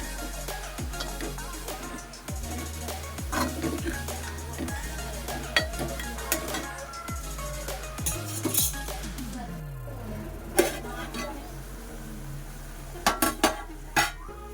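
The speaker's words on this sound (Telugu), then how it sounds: "ఒకసారి బాగా కలుపుకుని ఒకసారి అయితే వేగనిద్దాం పచ్చివాసన పోయేదాకా" Ginger garlic paste being stirred and fried in a pan: a ladle scrapes and clinks against the metal in irregular strokes over a low steady sizzle, with several sharper clanks near the end.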